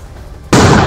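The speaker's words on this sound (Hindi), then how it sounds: "आप सुन सकते हैं बहुत जबरदस्त धमाका हुआ" An army bomb disposal squad sets off a controlled blast to destroy an IED, and a sudden, very loud explosion cuts in halfway through the clip after near quiet.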